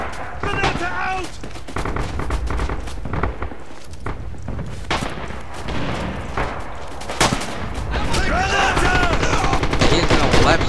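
Battlefield din in the Red Orchestra 2 war game, with repeated gunfire bursts and blasts including a grenade explosion, loud and close, while soldiers shout over the combat.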